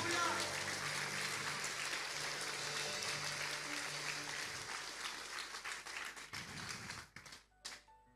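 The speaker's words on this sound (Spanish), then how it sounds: "denle un poderoso aplauso a Jesús" A church congregation claps loudly and continuously for several seconds, then the applause thins out and fades to a few scattered claps.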